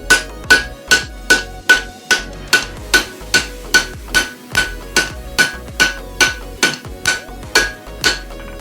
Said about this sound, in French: mettre des coups de marteau dessus